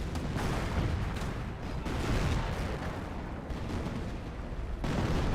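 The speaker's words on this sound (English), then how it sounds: "Got Creeping Barrage back here" Creeping barrage artillery fire in the Company of Heroes game, a dense, continuous rumble of booming shell impacts that barely lets up.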